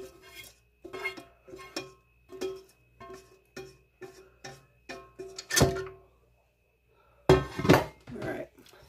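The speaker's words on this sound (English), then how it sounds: "I'm just trying to scrape off everything off the pan where I seared" Metal utensil scraping and knocking against a pan to loosen seared pot roast bits, a run of short rhythmic scrapes and clinks close by, followed by two louder, longer scrapes with gaps of quiet between.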